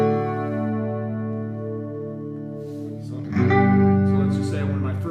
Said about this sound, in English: So if you turn it all the way up, you can hear the chorus sound